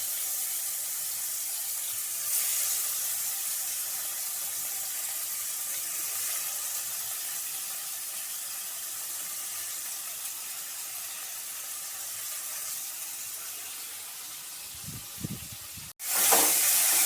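Bitter gourd pieces, with salt and turmeric in the oil, fry in a wok with a steady close hiss that holds throughout, then a brief clatter and a louder rush near the end.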